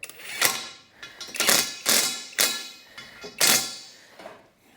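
Metallic clunks and ratcheting clicks come in about six distinct bursts as a clamp block is tightened into a Rogue Fab tube bender, close and loud with short pauses between.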